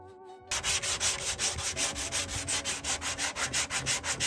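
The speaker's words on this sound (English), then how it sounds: "So the technique to sand is in an X pattern, making sure that you don't sand too much and leave a low spot." Sandpaper rubs over Bondo body filler on a welded panel of a 1975 Mercedes. The close, even strokes scrape back and forth in a quick, regular rhythm after a brief quiet start, with no talking.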